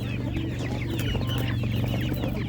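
Master Grey chickens clucking at an animal market, a dense steady chorus of many birds close by with overlapping clucks and chatter over constant low crowd noise.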